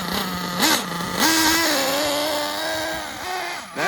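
A Losi Truggy RC car's untuned nitro engine, fitted with a new fuel tank, clutch bearings and exhaust, runs with a buzzing, high-pitched whine that rises and falls in quick revs before settling into a steady drone, close and loud.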